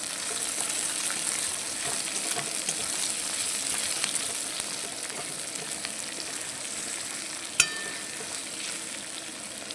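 Onions frying in a pan to reddish brown, a steady even hiss of sizzling oil running throughout with one brief sharp clink near the end.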